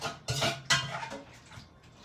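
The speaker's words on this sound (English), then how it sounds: "we're going to take that same spatula, take this off, and we're just going to go ahead, start scooping that up" A metal spatula scrapes and knocks against a pot while scooping out cooked bacalao, giving two sharp clanks followed by softer scraping, with no voices.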